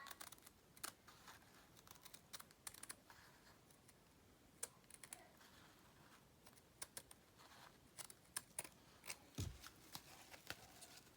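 Scissors snip around a paper template while making dress form journal tags, giving quiet, scattered crisp clicks and cuts at an irregular pace against a faint background.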